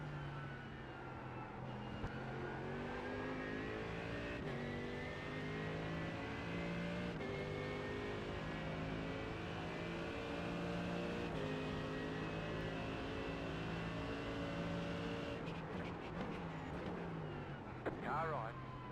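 Race cars in a sim racing game, a pack of faster multi-class cars closing in, their engine tones rising and shifting steadily and loudly throughout, revving through gear changes up close.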